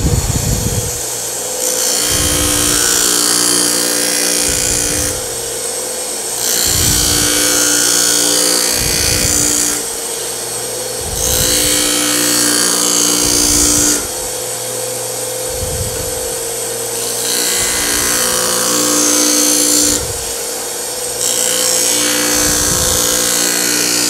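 A card scraper is ground on a powered grinder in repeated passes, each a loud, harsh grinding whine lasting a few seconds, separated by brief lulls, with no talking.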